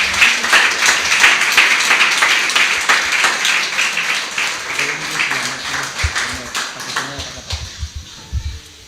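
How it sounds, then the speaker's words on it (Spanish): Church congregation clapping loudly in steady rhythmic bursts, dense and close, with voices mixed in and the clapping thinning toward the end. "Dele palmas fuertes al Señor"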